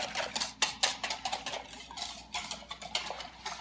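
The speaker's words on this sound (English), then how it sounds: "I'm going to take and whisk this up." Quick, rhythmic scraping and clicking of a whisk against a bowl of wheat gluten sausage mixture, close up and moderately soft, continuing steadily with no talking.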